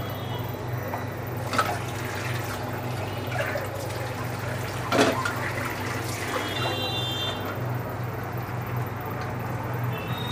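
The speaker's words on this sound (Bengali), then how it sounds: "এখন আমি ডালটা মাছের মধ্যে ঢেলে দেব" Cooked mung dal is poured into a pot holding fish head, a continuous liquid slosh and splash over a steady hum, with a couple of louder thuds from the pot and no talk.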